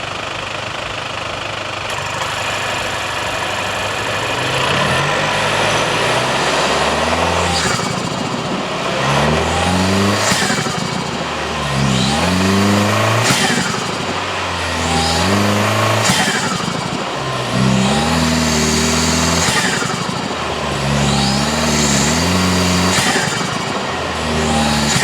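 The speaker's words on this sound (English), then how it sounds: "I'm gonna put this mic underneath the hood and see if we can get some turbo noises" A 6th-gen Toyota 4Runner engine fitted with a cold air intake, recorded under the hood, runs loud and close through repeated rising revs with whooshing intake and turbo noise over a steady rumble, about 25 seconds long.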